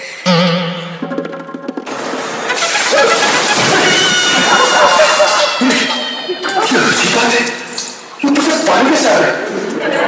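Water flowing and splashing, a loud, broadband rushing and sloshing that surges and dips over several seconds, with brief pauses, near and dominant, with voices heard at moments.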